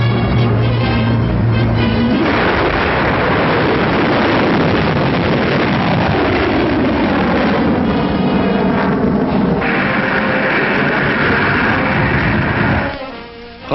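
A German V-2 guided missile launches with a loud, sustained roaring rush of rocket exhaust that swells and holds steady, carried on a muffled, wind-like 1940s film soundtrack.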